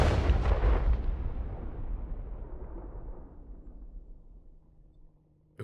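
A single loud gunshot blast in the video game Night in the Woods, followed by a long booming tail that fades away over several seconds.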